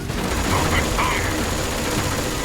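Heavy, continuous gunfire in Metal Gear Solid 3, a dense unbroken fusillade filling the whole stretch at high volume, with a voice faintly mixed in.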